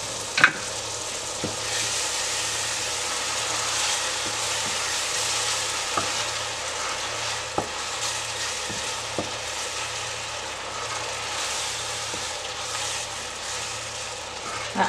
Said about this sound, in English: So let it continue to fry and we'll be right back.